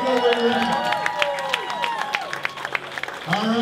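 Fight-night crowd at a Ronin Fight League event cheering and clapping as a fighter is introduced, a steady roar with scattered claps and whistles while an announcer talks over it.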